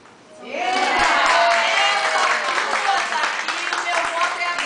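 A gathering of a confraria gives two guests a round of applause: clapping swells quickly after a brief quiet start, then holds as a lively, fairly close patter. Voices can be heard through it.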